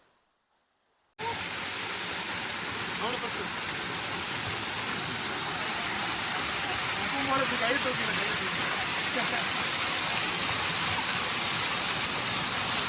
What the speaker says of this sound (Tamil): இதுதான் பெரிய வாட்டர் ஃபால்ஸ்.